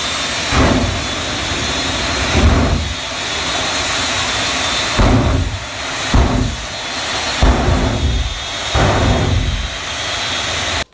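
A VW pickup fitted with a 5,000 horsepower jet engine on the back runs loudly nearby, a roaring broadband jet rush that surges and dips in repeated bursts, steady and unbroken by talk.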